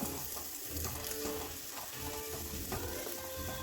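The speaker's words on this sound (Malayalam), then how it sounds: "എല്ലാം കൂടി ഇട്ട് കൊടുത്ത് ഒന്ന് വഴറ്റി കൊടുക്കാം" Onion masala sautéing in a pan with salt and half a teaspoon of garam masala, a steady dense sizzle with light scraping and clinking from stirring, close and continuous, no voices.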